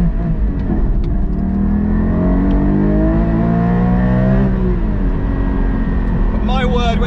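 A Porsche 718 Cayman GT4 accelerating hard as power goes through the rear wheels, its loud engine note climbing steadily in pitch up close and then easing off near the end.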